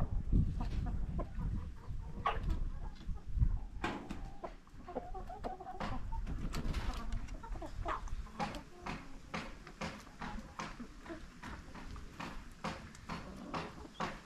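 Chickens cluck and chatter around a compound, with clucks and scratchy clatters scattered over a busy outdoor background, fairly close and with no talking.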